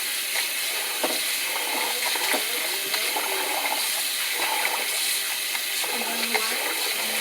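Steady hiss of cold running water from a tap, with faint clinks and swishing as rice is rinsed under it.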